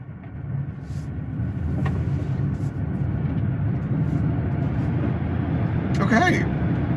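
A 2025 Volkswagen ID.Buzz electric minivan accelerates with a low, steady rumble of road and cabin noise that swells gently and holds, with a person speaking briefly over it inside the vehicle.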